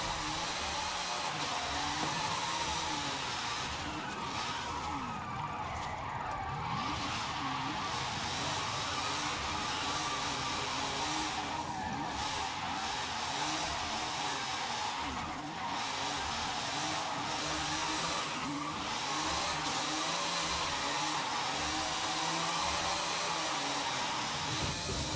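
A car engine in Forza Horizon 5 drones steadily and echoes off canyon rocks, a continuous loud roar with shifting revs lasting the whole stretch and no talking.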